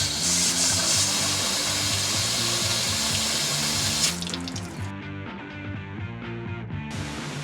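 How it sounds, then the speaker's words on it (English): A garden hose sprays water through the venturi tubes and burner of a BBQ grill, a steady rushing hiss that shifts and thins partway through, with background music underneath. "Now you want to flush out the venturi tubes and burner with a garden hose."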